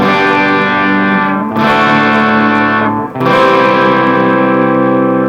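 A distorted G&L Fullerton Deluxe Legacy HB electric guitar on its bridge humbucker rings out in three sustained chords, each held then briefly cut before the next, with a thick, growly gain tone.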